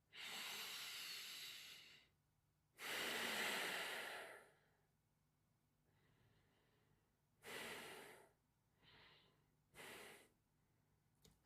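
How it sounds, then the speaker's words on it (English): Long, deep breaths during a Kundalini yoga practice, slow airy inhales and exhales of several seconds each, close and breathy, separated by quiet pauses, with a few shorter puffs toward the end. "long, deep breathing."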